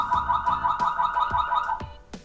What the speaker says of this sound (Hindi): तो कभी कोई इंटर भी किया तो इस सायरन बजा के आप उनको